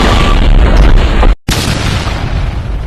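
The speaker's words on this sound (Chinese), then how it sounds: "爆炸了，我得赶紧跑。" A loud, sustained booming explosion in the video game Mini World fills the scene, breaking off for a split second of silence before the blast rumble resumes just as heavily.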